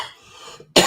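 A person's cough heard up close, a single harsh burst near the end after a quieter stretch, loud and alone without talk.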